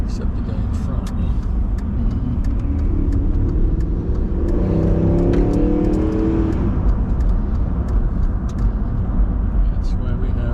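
A car accelerates hard on the road near Minot, North Dakota, its engine revving in a rising loud roar for several seconds, heard from inside with steady road rumble and occasional clicks.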